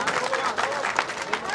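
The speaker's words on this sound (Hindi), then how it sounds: "जोर से ताली बजाकर अपन स्वागत" An audience at a memorial gathering for a death anniversary, attended by ministers and officials, applauds in welcome with a dense, continuous patter of many hands clapping.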